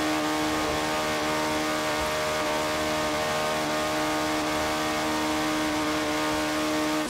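A 1985 Ford RS200 Evolution in Forza Horizon 4 held at high revs near 9,500 RPM, a loud sustained engine howl with strong steady harmonics and no speech.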